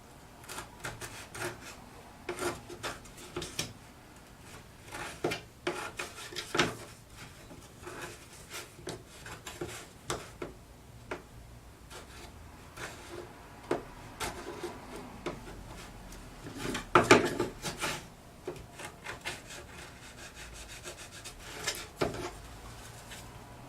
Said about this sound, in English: I'm going to take my chisel here, clean off the edges a little bit